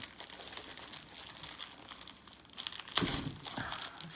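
Plastic packaging around a Zweigart Aida cross-stitch canvas, 18-count and 54 by 100 cm, crinkles and tears up close, with a sharper rip near the end and no talking.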